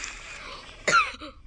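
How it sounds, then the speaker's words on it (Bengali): A single sharp cough bursts out close by, brief and throaty, after a moment of low background sound. "সরি, আমার কাশি হয়েছে"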